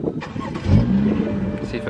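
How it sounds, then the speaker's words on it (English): A BMW engine cranks and catches, the start rising into a brief low idle hum with some background voice or noise around it. "So I guess let's go ahead and turn on the car"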